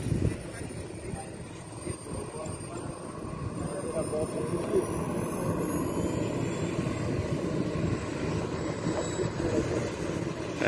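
A radio-controlled model jet airplane flies past during an aeromodelling display, giving a steady, loud turbine roar with a thin, high whine that rises in pitch. Voices may be present under the engine noise.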